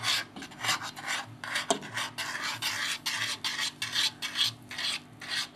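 Brazilian dessert mixture with coconut sugar and butter stirred in a bowl, a rhythmic scraping rasp of spoon against the bowl repeating steadily, close and fairly loud, with no talking.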